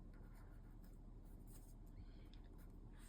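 A pen moves across the pages of a journal in faint, quick scratching strokes that run on steadily for a few seconds, up close and quiet.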